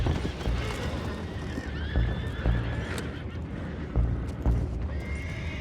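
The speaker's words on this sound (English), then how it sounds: "go find out about those horses down below" Horses whinny and neigh among clip-clopping hooves in Red Dead Redemption 2, set against a busy outdoor game scene with steady background noise and several separate calls.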